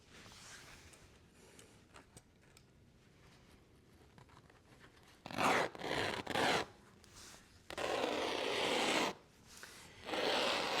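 Strap cutter slicing through a leather hide on a work table: quiet rubbing scrapes at first, then several louder rasping bursts of drawn cutting separated by short pauses.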